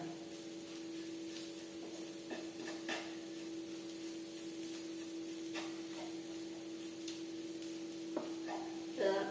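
Sliced onions salted and frying down in a pan: a quiet, even sizzle with occasional spatula scrapes over a steady low hum, no one talking.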